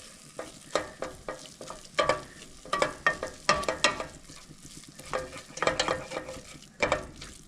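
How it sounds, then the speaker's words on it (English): Onions stirred in a pot with stock for a velvety French onion soup (soubise), a spoon scraping and sloshing through the thick, pasty mixture in irregular strokes over a soft sizzle. "Keep stirring."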